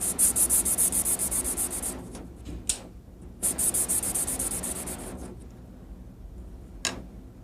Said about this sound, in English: just rubbing it over the top of it and just clean it up a little and bit